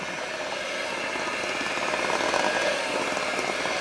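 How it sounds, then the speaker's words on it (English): An electric mixer whips pumpkin cream cheese muffin batter with vanilla, giving a continuous loud motor whir that holds steady and swells slightly toward the end, with no speech. "we're going to take our mixer and we're going to mix that up"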